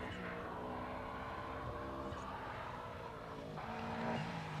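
A Subaru rally car runs along a stage of the 1992 Galway International Rally, its engine a faint, steady drone at a distance with light crowd noise.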